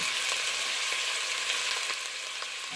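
Chicken sausage sizzles steadily in hot oil in a pan as it browns, a continuous close frying hiss with faint crackles throughout, no voices.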